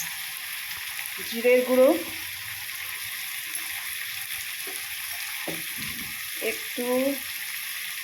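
Water spiced with cumin and coriander powder simmering in a pot, a steady soft hiss running throughout beneath brief bursts of someone talking.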